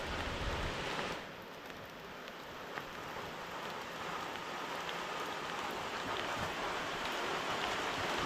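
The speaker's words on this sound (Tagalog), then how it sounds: "dito muna tayo kasi medyo malakas ang ulan" Heavy rain pours down steadily outside a house, a dense, continuous wash of drops drumming on surfaces close by with no voices.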